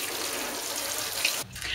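Freshly sown squash seeds in an allotment greenhouse are watered, a steady close hiss and patter of spraying water that stops abruptly near the end before a brief resumption.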